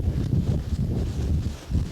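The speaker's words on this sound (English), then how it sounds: "we're trying to get into a place that's not quite as windy so we can hear better" Low, buffeting wind rumble pushes against the microphone, steady and heavy throughout with gusty swells and no clear voices.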